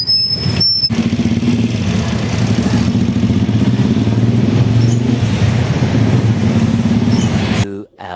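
A blue motorcycle carries its rider home, a steady close engine drone and road rumble running continuously before cutting off abruptly near the end.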